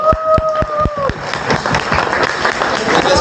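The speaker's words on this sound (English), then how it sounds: "Let's give them a round of applause" Audience applauding at a real estate networking event, a dense crowd clapping steadily for a few seconds with a couple of sharp claps standing out at the start.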